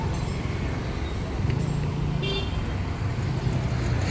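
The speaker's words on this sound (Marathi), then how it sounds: "गाड्या बघ." Road traffic rumbles steadily on a street, with a short car horn toot sounding midway; faint voices are present in the background.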